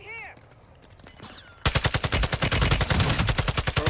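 Rapid automatic gunfire in a video game, a loud sustained burst of evenly spaced shots that erupts suddenly after a quieter opening with faint chirps, continuing close and steady to the end.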